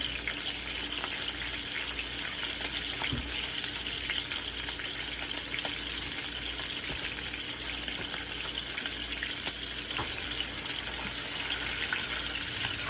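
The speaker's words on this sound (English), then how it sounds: "let me wash my hands real quick" Tap water runs steadily over hands at a sink, a continuous soft splashing gush held for several seconds, moderately close, with a few small knocks and no talk.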